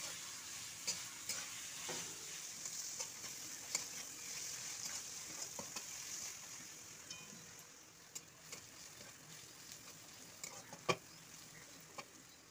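Onions frying in a pan make a soft, continuous sizzle with occasional light crackles and stirring taps, fairly faint and steady throughout with no voices.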